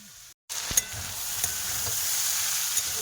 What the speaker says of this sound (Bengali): এই যে ভাজা হচ্ছে